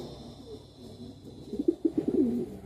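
A Cuban Thief Pouter pigeon at a pigeon show gives a run of soft, low, throaty coos building in the second half, close by with no talking over it.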